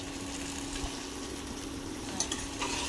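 Masala stir-fried in mustard oil gives a steady, faint hiss with occasional soft scraping stirs, even and unbroken throughout.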